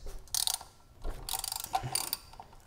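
A 10 mm ratchet breaks loose the pulley bolts on a 2005-2009 Mustang GT 3-valve 4.6L V8 with the belt removed. Several short bursts of ratchet clicking sound close by, separated by brief quiet gaps.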